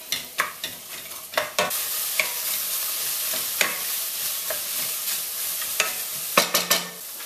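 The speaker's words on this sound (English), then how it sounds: "We're going to add our garlic and sliced onion, and we're going to saute these guys for a little bit, soften them up" Garlic and sliced onion sauté in melted butter for beef stroganoff over a moderate flame, giving a steady close sizzle broken by repeated loud scraping stirs from start to finish.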